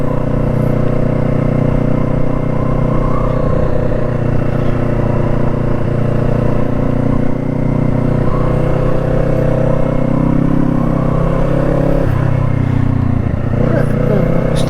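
A Kawasaki Eliminator small cruiser with a 180-degree parallel twin engine drones steadily and loud while riding, with a slight rise in revs near the end, under a rider's voice speaking over it.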